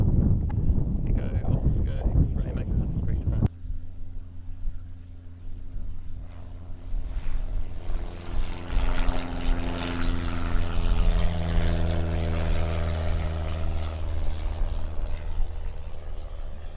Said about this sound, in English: So it should be doing a touch and go